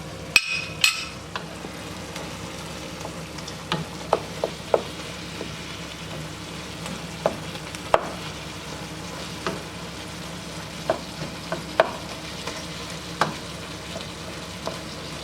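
Ground beef frying in a pan is stirred, giving a steady close sizzle broken by repeated sharp scrapes and taps of the utensil against the pan.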